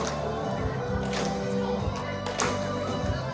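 A congregation at a children's church worship service claps along to a worship song, with sharp, rhythmic hand claps over a full bed of music and singing.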